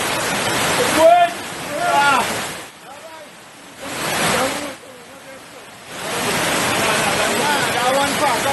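A vehicle drives through flood water in Trinidad, throwing up surging bursts of rushing, splashing water that swell and fade several times, with voices talking nearby.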